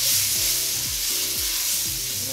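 Curry rundown fish sizzling steadily in a pot while being stirred, with repeated scraping strokes through the loud, continuous frying hiss.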